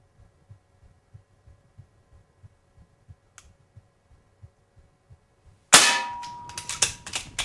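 A Diana Bandit PCP .177 pellet pistol fires a sharp, loud crack, followed moments later by several quick follow-up reports and clanks close by. Before the shots comes a quiet stretch with soft regular ticks and a single faint click.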